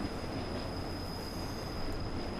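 Simulated DB BR 155 electric locomotive rolling along the Koblenz to Hürth-Kalscheuren line in Train Simulator 2016: a continuous wheel rumble on rails with a steady high whine, even and close.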